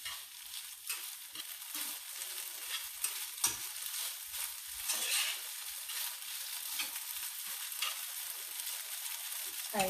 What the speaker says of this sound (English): Just make sure that you're moving it around so that you can get all of that flour cooked.